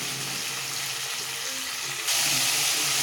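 Chicken pieces frying in hot oil in a pan, a steady loud sizzling hiss that jumps in intensity partway through.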